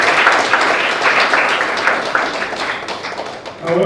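An audience at an agri-food development event breaks into sustained clapping, a dense, steady wash of many hands that carries on evenly and begins to thin out near the end.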